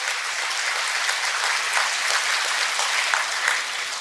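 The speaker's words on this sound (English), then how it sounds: "Let us all give him a big round of applause." Sustained audience applause at a business forum on the Johor-Singapore Special Economic Zone, a dense, even wash of many hands clapping steadily for the full stretch without letting up.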